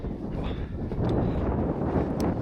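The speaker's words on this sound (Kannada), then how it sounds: "ಸಿಕ್ಕಾಪಟ್ಟೆ ಗಾಳಿ." Strong wind on a Himalayan summit on the Brahmatal trek, a steady loud roar buffeting the microphone with low gusty rumble throughout, no talk.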